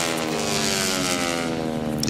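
T-6 propeller racing airplanes at the Reno Air Races give a loud, steady, droning roar with a buzzing tone, sustained throughout and close by.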